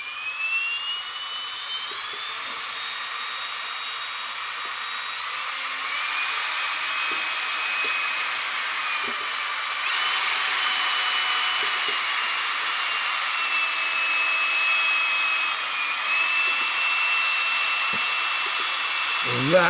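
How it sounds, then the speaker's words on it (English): A power drill fitted with a rip-saw blade mixes fibreglass resin, whining steadily at high speed for a long stretch, its pitch shifting a few times as the load changes, close and fairly loud. "Just using the blade off a rip saw, put it into the chuck of my drill"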